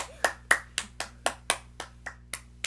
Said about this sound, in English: he's not gonna stop clapping now